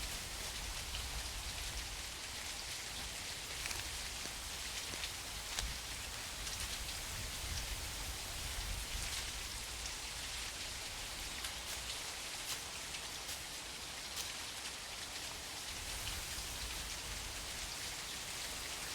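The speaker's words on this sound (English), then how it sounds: "It is raining, so my sound's going to be masked a little bit." Steady video game rain, from a VR hunting game, falls continuously on surfaces, a dense even hiss with scattered drops, no voices.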